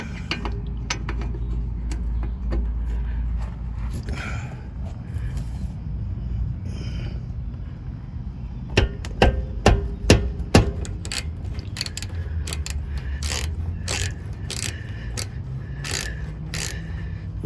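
Socket wrench loosening the brake caliper bolts on a Cadillac Escalade's disc brakes, a run of sharp ratcheting clicks and metallic ticks in bursts close up, over a steady low workshop rumble.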